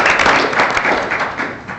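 Audience applause at a board of education regular meeting, a dense, steady wash of many hands clapping at moderate volume that thins slightly toward the end.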